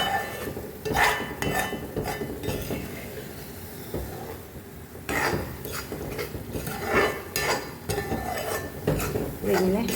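A spoon stirs a thick cooking mixture in a pan, with repeated scraping and knocking strokes against the metal and a faint sizzle underneath, steady and close.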